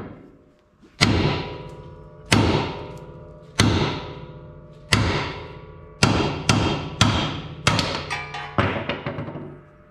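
Heavy metallic hammer blows knocking out a Toyota Hilux ball joint, about a dozen strikes, ringing and decaying, spaced roughly a second apart then quickening toward the end.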